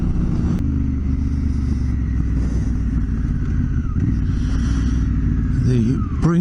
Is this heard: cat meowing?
no